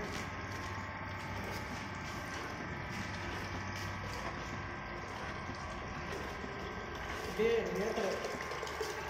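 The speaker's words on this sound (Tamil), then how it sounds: "இப்போ பார்த்தீங்கன்னா மோட்டர் ரன் ஆகிட்டு இருக்கு." An agitator motor in a waste water treatment tank runs with a steady mechanical hum and faint rattling, continuous and even throughout, with a brief louder clatter near the end.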